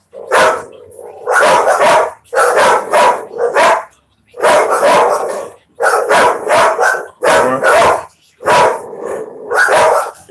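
Two dogs, one of them noticeably louder, barking in loud repeated bursts up close, sharp barks and yips coming in clusters with short gaps between them.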